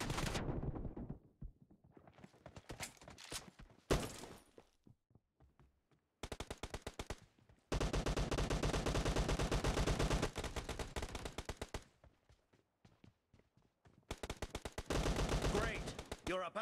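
Rapid automatic gunfire from the video game PUBG, loud and close, in several sustained bursts separated by brief single shots and short pauses.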